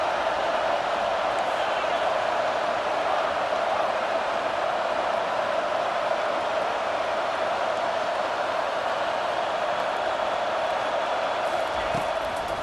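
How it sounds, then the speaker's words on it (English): A football stadium crowd keeps up a steady, wall-like roar behind the defense on third down, a constant dense hum that holds at one level throughout. "Decibels rising as the crowd gets behind this defense on third down"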